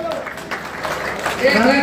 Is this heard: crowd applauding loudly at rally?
yes